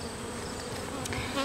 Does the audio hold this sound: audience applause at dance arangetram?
no